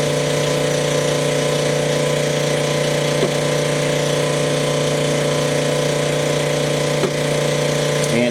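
A connecting rod resizing hone machine runs with a loud, steady mechanical hum and strong tonal whine. A few faint clicks sound over the drone, with no voices.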